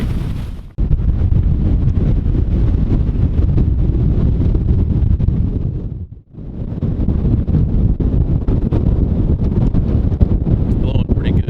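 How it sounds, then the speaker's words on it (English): Strong wind of about 27 knots buffeting a sailboat at night, a heavy low roar pounding against the microphone with one brief lull midway, loud and relentless. "The wind seems to be picking up again"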